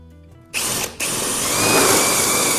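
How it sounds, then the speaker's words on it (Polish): Power drill boring holes with an 8 mm bit into an oak tabletop, a loud continuous whine that starts abruptly, cuts out briefly, then resumes and grinds steadily. "biorę się do roboty za pomocą ósemki. Będzie trochę wiercania."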